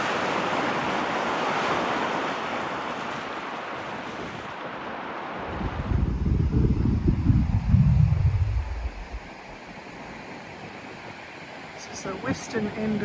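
Steady wash of surf and wind rolls along Fishery Bay Beach, then a heavier wave surges in and breaks loudly before fading back to gentle background swash.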